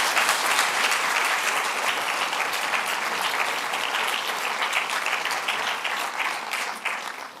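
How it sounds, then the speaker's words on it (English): Sustained, dense applause from a large audience at an MIT Sloan event, loud and even throughout with many overlapping claps and a slight taper near the end. "So please join me again in a round of applause to celebrate Ed."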